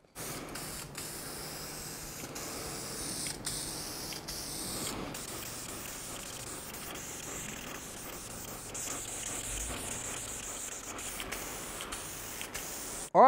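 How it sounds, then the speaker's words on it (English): Vinyl and fabric dye is sprayed onto a car interior, a long continuous aerosol hiss with short bursts and brief pauses, close and steady throughout, with no talk. "So yeah, let's keep spraying and see how we go."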